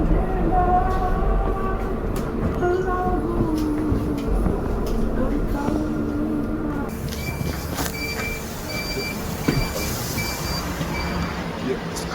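Interior ride noise aboard a light rail LRT train in Malaysia, a steady rumble and rolling hum throughout with occasional clicks, with people talking over it.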